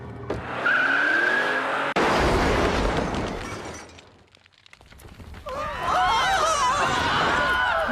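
A DeLorean time machine car tears away with squealing tyres and a roaring engine, a sharp crash cutting in early, then a brief lull before more screeching skids and revving swell back loud and close.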